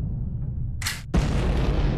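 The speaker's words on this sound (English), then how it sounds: "Boom! Explosions everywhere." A Happy Wheels video game explosion bursts out as a loud, deep boom with a hiss of debris, following a rumbling low background and a brief bright crackle.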